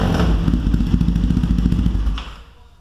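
A Triumph T100 Black motorcycle engine runs at a steady, throbbing idle with a pulsing rhythm, loud and close, then cuts off and fades near the end.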